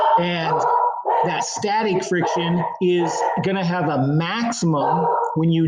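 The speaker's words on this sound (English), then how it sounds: "I apologize for my dog in the background." A dog barks and yips in short bursts in the background of a physics lesson at home, while a person keeps lecturing clearly over it.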